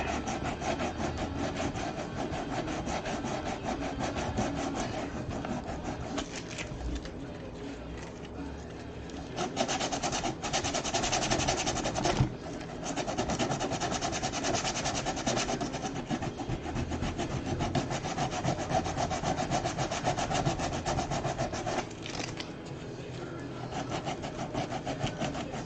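Super rough sandpaper rasps steadily against a surface in continuous back-and-forth strokes, loud and close, with brief pauses and changes in pressure throughout.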